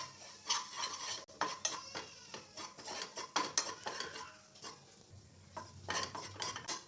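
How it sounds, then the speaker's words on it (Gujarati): A spoon stirring and scraping two spoonfuls of gram flour (besan) roasting in a little oil in a pan over medium heat, a quiet, irregular run of metallic clinks and scrapes. "બેસનને આપણે શેકી લઈએ"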